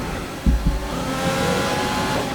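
F1 2020 racing cars in a video game: a steady engine drone runs throughout, broken early by two short, low thumps as the cars bump against each other.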